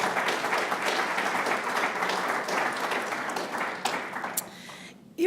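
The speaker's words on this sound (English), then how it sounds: "Let's give her another round of applause." An audience at a press conference for a framing assistant training program ceremony gives a round of applause, steady dense clapping that thins out and stops near the end with a few last claps.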